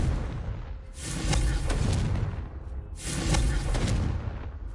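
Two heavy explosive blasts from the Confringo fire spell in Hogwarts Legacy on PS5, each a loud booming burst with a rumbling tail, close and alone with no talk.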